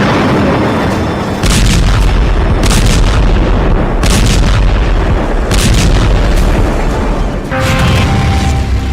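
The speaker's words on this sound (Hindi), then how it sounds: "लेकिन इतनी बड़ी इंसानी आबादी पर इजराइल 2000 किलो बम गिरा रहा है।" Heavy bomb blasts from an Israeli air strike with 2000-kilogram bombs on Rafah, a densely populated area, come as a string of loud, deep booms roughly every second or two, rumbling continuously between impacts.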